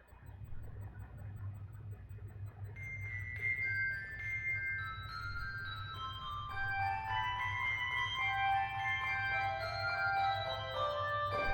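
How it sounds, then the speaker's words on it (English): Tiny handbells from an English handbell ringing group ring a melody alone, bright clear tones entering after a few seconds and layering steadily, moderately loud and close with no voices. "It's just the tiny little bells playing the melody."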